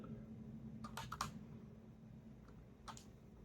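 Quiet bursts of computer keyboard typing, a quick cluster of three or four key clicks followed by a couple of isolated taps, close and soft with no talk.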